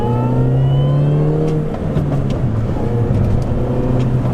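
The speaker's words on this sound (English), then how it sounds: "I start to hear those crackles and pops out of that exhaust" A 2006 Mini Cooper S John Cooper Works, a front-wheel-drive hatch, pulls hard under acceleration, its engine and exhaust droning loud and close with a rising then steady tone for the whole stretch, no talk over it.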